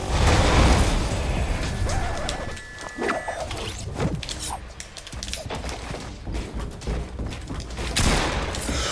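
Bursts of Fortnite gunfire crack out in scattered volleys amid clattering mechanical noise and a busy action soundtrack.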